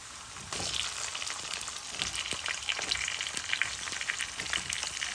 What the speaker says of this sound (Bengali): আদাটাকে দিয়ে তেলের সাথে আরেকটু ভেজে নেব